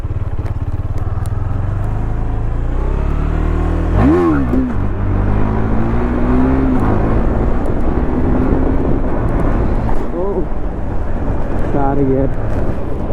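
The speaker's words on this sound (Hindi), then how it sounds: "यहाँ पे तो एक व्हीली तो बनता ही है" A KTM Duke 390 motorcycle engine revs hard during a wheelie on an open road, rising and falling whines under steady wind rush, with a sharp surge around the middle and another near the end.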